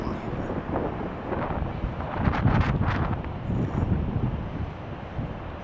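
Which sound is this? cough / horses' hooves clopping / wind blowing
wind blowing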